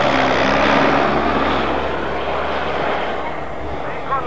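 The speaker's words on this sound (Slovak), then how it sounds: "Lietadlo má maximálnu rýchlosť 185 km v hodine" Small propeller airplane with an 80-horsepower engine, a steady droning buzz that holds loud and continuous throughout at an outdoor event, slowly fading slightly toward the end.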